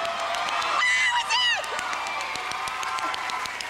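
Game show contestant yelling loudly alongside a studio audience cheering and whooping, a burst of excited shouts that fades into lingering crowd noise and scattered claps.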